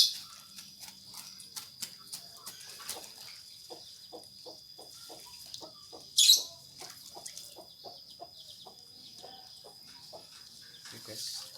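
Chickens near a fish pond are chased off. A run of short, rhythmic clucking pulses mixes with insect chirps, broken by one sharp burst midway, with faint voices nearby.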